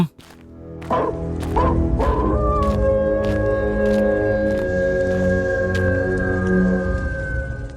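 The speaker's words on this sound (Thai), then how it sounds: "ทำไมหมาหอน" A dog howls at night in an animated folk tale. After a few sharp knocks, one long, drawn-out howl rises and holds steady for several seconds, loud and close.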